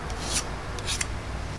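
A filling knife pressing and scraping wood filler firmly into a hole in MDF, a few short rasping strokes over a low background, close and fairly quiet.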